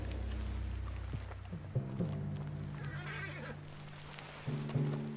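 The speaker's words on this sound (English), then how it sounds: "What's got this horse spook, huh?" A horse whinnies and neighs in Red Dead Redemption 2, its calls rising clearly over soft clip-clop hoofbeats, close and fairly quiet, with no talk over it.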